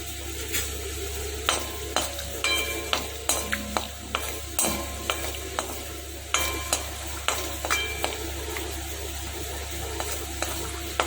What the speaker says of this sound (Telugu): అదే పనిలో కాస్త ఆయిల్ వేసాను దానిలో మొదట అల్లం తరుగు వేస్తున్నాను అలాగే వెల్లుల్లి తరుగు కూడా వేస్తున్నాను